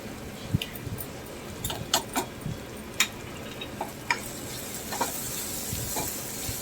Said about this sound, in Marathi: आणि मसाल्यांसोबत आपला कांदा परततोय, मसाले परतले जात आहेत छानपैकी